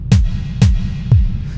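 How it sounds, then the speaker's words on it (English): Deep electronic kick drum samples from a MOD Duo X beatbox, triggered by a tempo-synced click, thump four times at a steady beat with a falling pitch sweep and reverb tail, loud and close. "And it's triggering this kick drum in this beatbox here."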